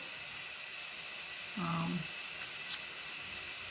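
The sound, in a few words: steam being released from cooker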